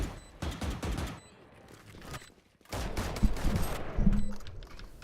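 Dense gunfire in a shooter video game, from the setting of a Valorant pro match, crackles in rapid bursts, loud and close, dropping out briefly before resuming in a heavier volley.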